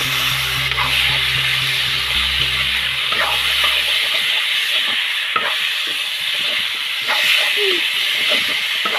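Meat, likely pork, and potatoes sizzle steadily in hot mustard oil with onion-garlic paste, a continuous bright frying hiss with occasional stirring scrapes and a low hum fading out early on.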